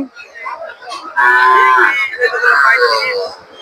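Calves low loudly and close by at a livestock market, one long drawn-out moo swelling over low background chatter of the crowd.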